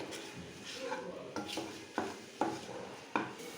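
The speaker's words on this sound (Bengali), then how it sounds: "এবার একটু অল্প করে জল দিয়ে কষিয়ে নেব মশলাটা। ভালো করে একটু কষিয়ে নিচ্ছি।" Spice paste with turmeric, cumin powder and a splash of water is stirred in a pan, a spatula scraping and knocking the metal in a quick, uneven rhythm over a quiet background simmer.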